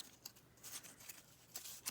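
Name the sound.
cutting paper with scissors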